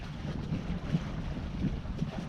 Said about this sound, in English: Very nice to have wind though, although it does make it colder